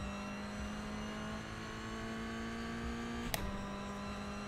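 A BMW LMDh prototype race car in the iRacing sim holds a steady, droning engine note at constant revs, with a brief sharp click or shift blip near the end, heard alone without talk.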